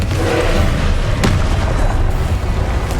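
A Confringo fire-blast spell in Hogwarts Legacy, a loud rumbling boom with one sharp crack in the middle of a continuous roar of combat.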